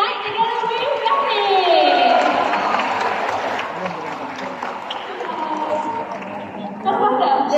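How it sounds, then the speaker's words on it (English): Crowd applause rolls through an audience at an outdoor evening animal show at the Singapore Night Safari, a steady dense wash of clapping with voices and cheers mixed in throughout. "let's give a round of applause for midnight together with Yummy!"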